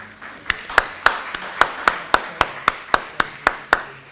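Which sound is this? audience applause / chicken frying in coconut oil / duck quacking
audience applause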